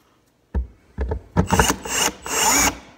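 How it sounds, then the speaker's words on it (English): A hand drill bores and taps a hole in the aluminum hull of a Bass Tracker Classic XL boat, with cutting oil applied. Several short bursts of grinding, rasping drilling are heard close up, growing longer and louder toward the end. "That's how you drill and tap."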